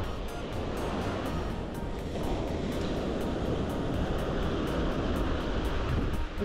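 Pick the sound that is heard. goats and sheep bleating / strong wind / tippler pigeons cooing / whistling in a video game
strong wind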